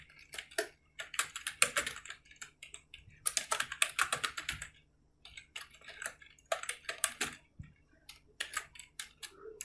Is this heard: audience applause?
no